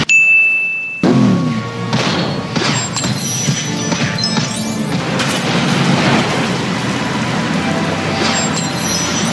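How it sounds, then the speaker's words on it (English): Statue in the Lego Batman 2 video game knocked over and smashing, a loud crash after a brief silence followed by sustained clattering, tinkling debris and game effects. "Then I knock over the statue."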